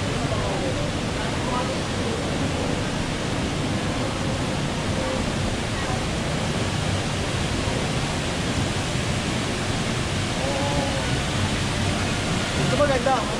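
An indoor waterfall feature in a Singapore building produces a continuous broadband rush of falling water, with people talking faintly under it.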